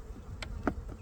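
Honey bees from a weak colony buzzing during a hive inspection, a couple of faint, brief passes as individual bees fly close by, otherwise quiet.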